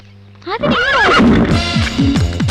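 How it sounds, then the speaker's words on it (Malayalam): A horse neighs loudly in a comedy film scene, a long rising and falling whinny followed by snorting and repeated quavering calls, close and prominent with no talk over it. "കുതിര"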